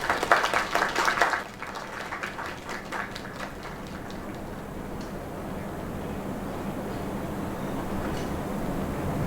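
A burst of dense clapping from a crowd applauding a performer in the video game LAKE fills the first second and a half, then cuts off abruptly into a quiet, steady room ambience.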